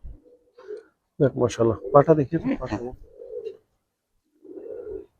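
Tournament racing pigeons in a loft give low, soft coos at the start and end, while a person talks clearly in between.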